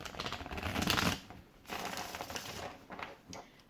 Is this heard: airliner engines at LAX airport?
no